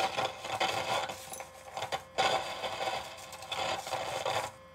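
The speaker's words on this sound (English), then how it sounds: "grated screw and shredded tinfoil in our mix, right here in our mixing bowl, we will carefully stir with our stirring utensil." Gritty metallic scraping and rasping as grated screw and shredded tinfoil are stirred in a mixing bowl, coming in three rough bursts with brief pauses between, close and fairly loud.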